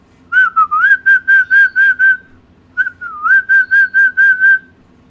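A person whistles close and loud, imitating a pet dove's morning and sunset call, in two phrases of short, evenly spaced rhythmic notes separated by a brief pause.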